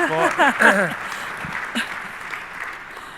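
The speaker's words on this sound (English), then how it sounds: "You guys can totally clap." Applause from a conference audience for panelists, starting under a speaking voice and continuing as a moderate, slightly distant spread of clapping.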